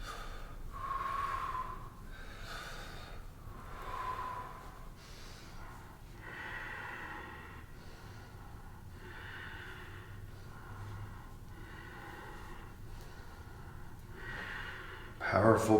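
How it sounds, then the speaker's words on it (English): Forceful rhythmic kriya breathing during a trauma-healing yoga exercise, with repeated sharp, powerful breaths in a steady pattern over about a dozen cycles, close and loud, ending in a brief louder burst. "Powerful breathing."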